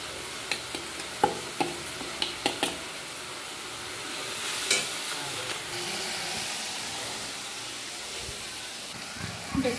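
Onion paste with cumin, chili and turmeric powder frying in oil for koi fish curry, a loud, steady sizzle with a few sharp spatters and stirring scrapes near the start, no talk over it.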